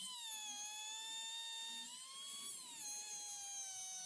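A Dremel rotary tool fitted with a cone-shaped bit carves into wood, its thin high-pitched whine holding steady with slight pitch dips under load throughout, fairly faint and alone.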